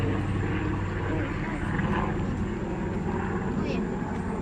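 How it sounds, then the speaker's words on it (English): A helicopter flying overhead makes a steady, loud rotor and engine roar that stays constant throughout, with people talking faintly underneath. "It's a helicopter."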